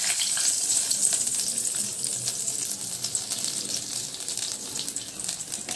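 A torn bay leaf frying in hot oil left from frying katla fish, giving a steady, close, hissing sizzle with bright crackle and no pauses.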